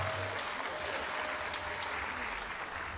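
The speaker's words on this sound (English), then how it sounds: "Can we give a warm clap for these beautiful people?" Warm applause for a newly married couple at a wedding reception, steady dense clapping from a crowd lasting throughout, moderately loud and even.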